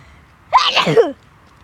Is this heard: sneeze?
yes